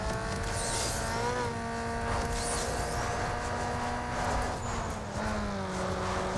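A car accelerates in the video game Need for Speed Underground 2 during a Stage 3 drag race, its engine whine climbing in steady harmonic sweeps with gear-change dips, loud and continuous.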